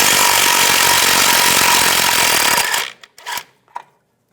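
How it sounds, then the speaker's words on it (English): A power tool spins out a brake bracket bolt on a 2011-2018 Ram 1500 with a 13mm socket, a loud continuous whirr that cuts off abruptly and is followed by a few short bursts and rattles. "Use a 13mm socket, take that bolt out"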